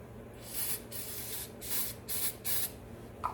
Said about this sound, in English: I'll spray some accelerator on here